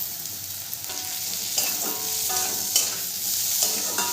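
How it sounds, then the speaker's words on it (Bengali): Chopped tomato being stirred into ghugni masala frying in a pan, a steady sizzle with scraping stir strokes recurring every second or so, close and fairly loud, no voices. "টমেটোটা দিয়েও খুব ভালো করে মিশিয়ে নেব"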